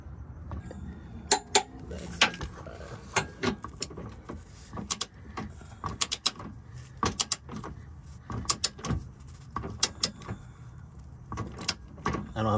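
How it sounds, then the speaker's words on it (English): A hand torque wrench ratchets Draw Tite tow hitch bolts on a 2015 Toyota Prius, producing repeated sharp metallic clicks in uneven bursts over a low background, close to the mic. "So now he's hand torquing it"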